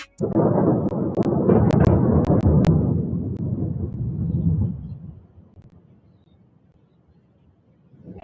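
A deep, heavy rumble of thunder rolls loudly for several seconds, then fades into a low, distant grumble.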